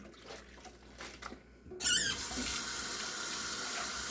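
A spoon is washed under a running kitchen tap. After some quiet handling, the water suddenly starts and then streams steadily and loudly for the rest of the stretch, with no voices.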